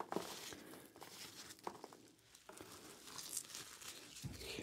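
Items being unwrapped from bubble wrap after coming out of a box, with close, quiet crinkling, rustling and tearing in irregular bursts throughout.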